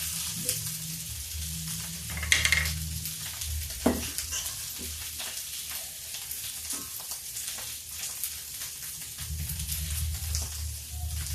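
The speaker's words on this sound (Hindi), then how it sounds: "इसको ऐसे ऐसे धीमे धीमे फ्राई कर लेते हैं" Oil sizzles steadily in a pan as aloo tikki potato patties slowly shallow-fry, with occasional clinks and stirring noises over the constant crackle.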